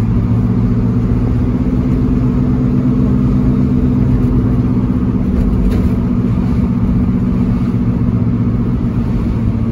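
A kei truck engine drones steadily and close while driving under load, a continuous low hum with no pauses and no voices.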